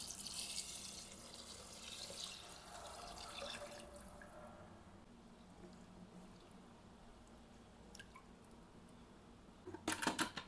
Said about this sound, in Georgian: დავასხათ წყალი.